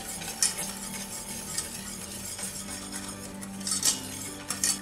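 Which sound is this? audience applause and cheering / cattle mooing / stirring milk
stirring milk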